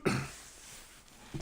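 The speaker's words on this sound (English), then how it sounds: "I'm going to have a cough." A man coughs and clears his throat once, brief and fairly close, during a live online equine sale broadcast, followed by a short second rasp.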